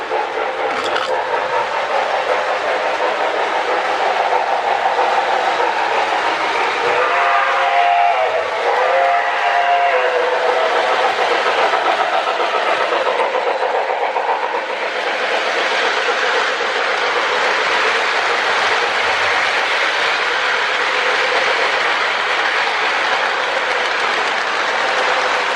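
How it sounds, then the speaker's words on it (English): Lionel 726 Berkshire model steam locomotive running with a RailSounds tender, giving a steady, loud chuffing and rail rumble throughout, with whistle-like tones partway through. "I love running those railsounds tenders with these old behemoths."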